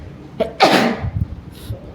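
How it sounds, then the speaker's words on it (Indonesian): A person with a head cold sneezes once, loud and close, with a sharp intake of breath before the burst. "Kalau aku bersin ya mohon maaf ya."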